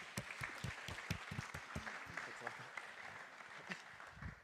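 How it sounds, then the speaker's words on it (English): An audience at an AI for Robotics workshop claps after a talk, a dense patter of many hands with some sharper individual claps standing out, fairly faint and continuous throughout. "One round of applause."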